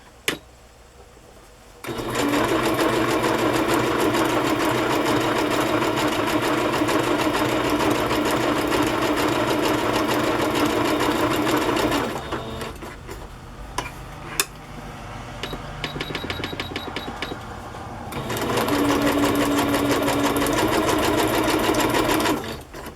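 A sewing machine stitches a boho-style cover in two long steady runs of dense mechanical whirring, a short pause and irregular clicks between them, close and loud with no talk.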